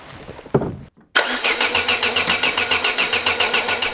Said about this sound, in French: J'ai beau insister, ça ne démarre pas et on commence à sentir que la batterie faiblit